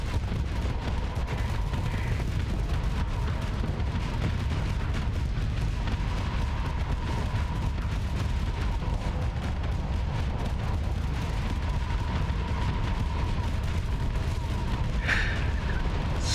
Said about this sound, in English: So many missiles.